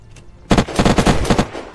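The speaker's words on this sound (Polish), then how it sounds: "wali snajper" Sniper rifle fire in the survival game Unturned, a loud, rapid cluster of sharp cracks bursting out after a quiet lead-in, close and punchy with no voice over it.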